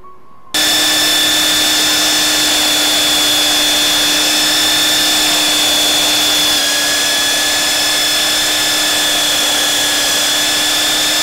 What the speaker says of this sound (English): Then a little of polishing to make it all part of one same piece.